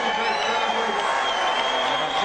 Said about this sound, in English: Appreciative audience in the sold-out Copa room in the Sands applauding these two warriors